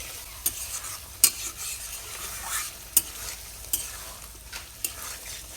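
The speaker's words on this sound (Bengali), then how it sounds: "দিয়ে আবার ভাজা ভাজা করে কষে নেব।" Chicken pieces stir-fried with cooked-down spices in a pan give a continuous close sizzle, broken by regular scraping knocks of a spatula against the pan.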